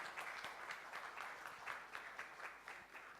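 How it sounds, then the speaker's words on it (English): An audience applauds for a keynote speaker at a formal address, with a steady wash of many hands clapping together. It is fairly faint and distant in the hall and continues evenly through the moment. "With a loud round of applause, please acknowledge Mr."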